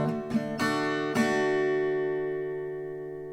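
A few acoustic guitar chords strummed in a loose pattern, each stroke ringing out and slowly fading over a sustained chord.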